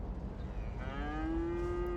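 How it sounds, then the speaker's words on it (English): Cows low in a long, rising moo over a steady hum of ambient sound in the Cities: Skylines city-building game, with the drawn-out call sounding fairly close. "look out the window and see, oh, look at all those cows"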